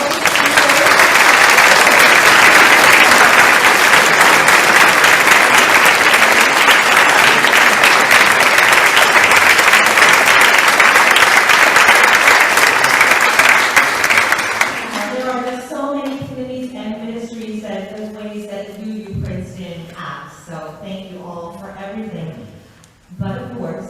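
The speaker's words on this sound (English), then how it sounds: "Can we have a round of applause?" Audience at a fundraising gathering breaks into loud, sustained applause for about fifteen seconds, dense and even, before it cuts off and a single voice begins speaking over a quieter room.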